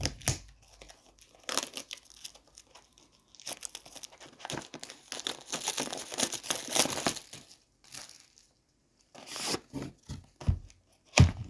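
A Strixhaven Lorehold prerelease pack's plastic wrapper is cut open with scissors, giving close crinkling and tearing bursts broken by brief quiet pauses, with no talking.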